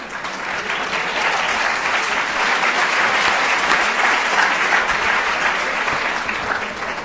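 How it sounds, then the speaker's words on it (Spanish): An audience at a religious conference applauds steadily throughout, the sound even and sustained before tapering slightly at the end. "el aplauso para la santa"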